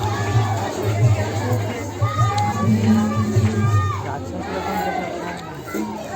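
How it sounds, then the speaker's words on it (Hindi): A dense crowd packed into a village Durga immersion procession, loud continuous babble of many voices with shouts and chatter close around, steady throughout. "भीड़ इतना है कि यहाँ से गुजरना बहुत मुश्किल हो गया है। बहुत भीड़ है।"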